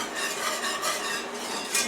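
Gravy for an open-face beef and potato sandwich boils and bubbles in a pot, with a steady close sizzling simmer and light scraping of a utensil against the pan, no voices.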